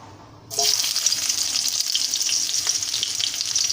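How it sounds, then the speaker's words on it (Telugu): Onions hit hot oil and ghee in a kadai with a sudden loud sizzle, then fry in a steady, close, continuous hiss with faint crackles and no voices. "ఆనియన్స్ వేగుతాయి చూడండి"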